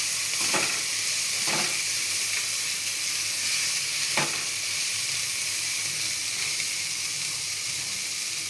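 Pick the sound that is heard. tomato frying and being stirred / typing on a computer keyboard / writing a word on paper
tomato frying and being stirred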